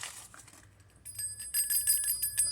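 Small metal Christmas reindeer bells, sold as hanging decorations, jingle brightly in a quick shaking cluster after a quieter rustle, close and without voices.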